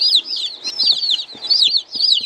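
Barred Rock and Black Australorp chicks cheep in quick, high-pitched peeps that overlap in a steady chorus, close and clear.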